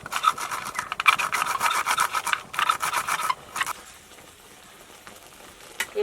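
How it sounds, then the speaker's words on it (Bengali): Green chili being rubbed across a metal grater, rhythmic rasping strokes in quick bursts for about three seconds, then fading to quiet background with a faint scrape at the end. "এইভাবে আমি গ্রেটারে দিয়ে"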